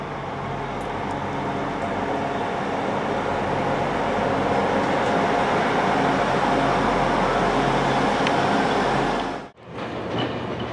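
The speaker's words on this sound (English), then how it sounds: "Here comes the 1908 Arriva Train 12's Wales premier service to Holyhead." An Arriva Trains Wales passenger train arriving at Shrewsbury station rolls past close by with a loud, continuous rumble and rattling wheels, dipping abruptly for a moment before the noise resumes.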